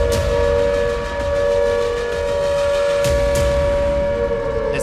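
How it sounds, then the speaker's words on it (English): Air raid sirens wailing across Israeli cities during an Iranian drone and missile attack, a loud steady rising-and-holding tone over low rumbling background noise. "sirens began to wail."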